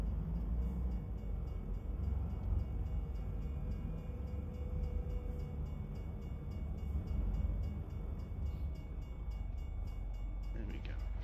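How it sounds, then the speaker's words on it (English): Railroad crossing bells and an approaching train heard from a truck cab in American Truck Simulator, a steady low rumble carrying through the whole stretch with faint ringing above it. "I can hear the bells, so we've got a train coming."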